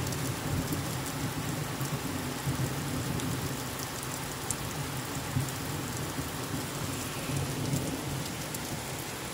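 Heavy rain pours steadily in a thunderstorm over the Pyrenees, a dense, even hiss with low rumbling thunder beneath it, continuous and fairly close with no talk.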